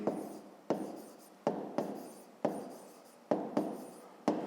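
Pen strokes scratch across paper as a math exercise is written out, a series of short, faint, regularly spaced scratchy bursts, close by with no talking.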